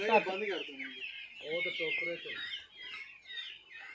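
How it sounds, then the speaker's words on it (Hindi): A flock of free-range chickens on a farm clucking and squawking close by, with busy overlapping calls throughout and a person talking among them. "आप देख सकते हैं काफ़ी ज़्यादा मुर्गियाँ हैं"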